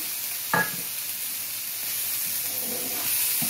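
Chopped green chilies sizzle in a pan with frying bitter gourd, making a steady close hiss with a sharp crackle burst near the start and soft stirring scrapes, no voices.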